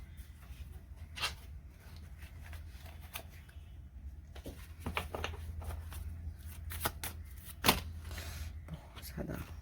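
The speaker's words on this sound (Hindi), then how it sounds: "एक सेकंड, कार्ड्स बहुत गिर गए।" Tarot cards gathered up and shuffled after spilling, a run of soft papery riffles and sharp card snaps, close and fairly quiet.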